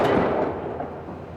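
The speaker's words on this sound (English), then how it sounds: "Those Chinese firecrackers pack quite a wallop." Chinese firecrackers set off remotely behind blast screens go off in a loud burst that fades into a broad, noisy decay with a smaller thump near the end.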